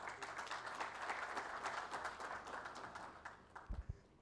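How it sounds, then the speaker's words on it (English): At an industry forum, a seated conference audience welcomes a guest speaker with a steady round of applause, many hands clapping softly at a distance, tapering off as a few thumps and bumps sound near the end. "kindly welcome him with a round of applause"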